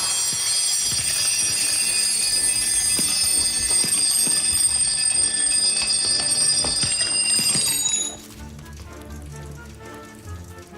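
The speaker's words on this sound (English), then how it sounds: "you must have switched off all of the alarm clocks at the end of 90 seconds" Several alarm clocks ring together in a game show challenge, a loud continuous metallic jangle that lasts about eight seconds and then cuts off abruptly, leaving quiet room noise.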